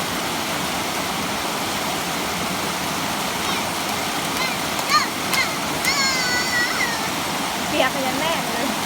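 Huai Yang waterfall pours over rocks in a steady, dense rushing roar with scattered splashes, and people's voices are heard faintly over the water.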